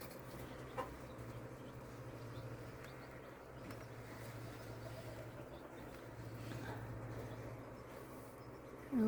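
A broody hen sitting on fake eggs clucks softly and steadily at close range, low murmuring clucks with a few sharper calls, no talking.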